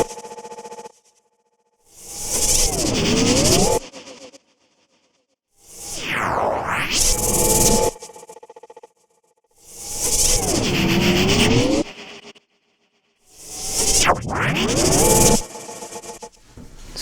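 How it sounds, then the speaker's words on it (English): Four separate swelling whooshes from a Complex Riser effect built in Soundpaint, each about two seconds long and layered with rising and falling sweeps, split by short silences. "Here's one I made called Complex Riser."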